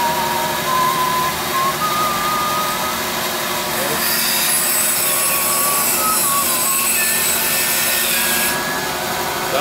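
An Oliver 416D woodworking machine runs smoothly with a steady, loud mechanical drone and whir, faint tonal whines drifting above the constant hum.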